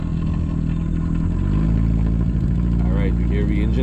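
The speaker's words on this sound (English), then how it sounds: "you hear the engine there, powering up there" A steady, loud boat engine drone runs throughout with low rumbling tones that rise slightly as it powers up on an Atlantic shrimping trip, as a person talks over it near the end.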